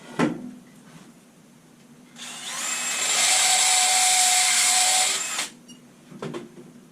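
A power drill bores out holes in a guitar body, whining steadily for about three seconds at close range after a brief knock, then stopping.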